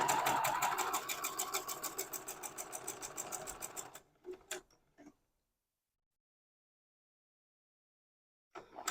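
A sewing machine stitches a quilt block seam in a steady rapid ticking run for about four seconds, then stops; a few faint clicks follow before quiet, with a brief mechanical sound near the end.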